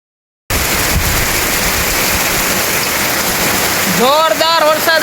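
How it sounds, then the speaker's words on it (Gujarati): Heavy rain pours down in a Gujarati village, a loud, dense, unbroken hiss that starts abruptly after a moment of silence, with a voice speaking over it near the end. "જોરદાર વરસાદ આવી ગયો છે અમારા ગામમાં"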